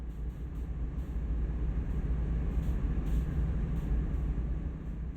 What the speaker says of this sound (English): Perform a brake application on this train of 20 cars to see this process in action.